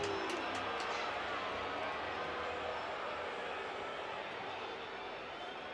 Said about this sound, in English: the crowd here at Oracle Park did not like the call